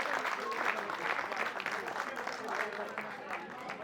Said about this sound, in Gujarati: એના માટે પણ એકવાર જોરદાર તાળીઓ થઈ જાય